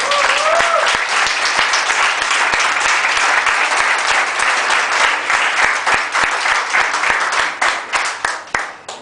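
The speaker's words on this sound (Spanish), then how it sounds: "Un aplauso al Señor." Loud, sustained applause from a church congregation during a sermon, a dense roar of clapping with a brief cheer early on, which breaks into sparser individual claps and tails off in the final seconds.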